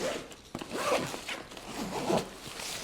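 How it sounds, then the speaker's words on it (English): A YKK zipper on a tomtoc 40L travel backpack is pulled open across the main compartment in a few quick, close rasping strokes, with brief pauses between pulls. "So I'll open it up with these YKK zippers."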